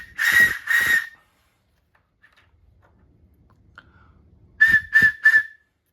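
A small whistle gives two short shrill high-pitched blasts, then after a quiet pause three more quick ones, loud and close with nothing else heard.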